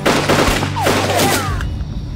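A loud burst of rapid gunfire in a wartime battle scene set against Japanese troops: overlapping rifle and machine-gun shots crackle close by, with a whistling ricochet and a booming tail as the shots die off.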